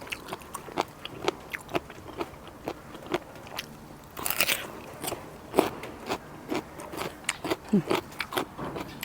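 Close crunchy bites and chewing on a thick, crisp plant stem eaten with spicy squid-tentacle salad, sharp irregular crunches at a steady pace with quieter chewing between them.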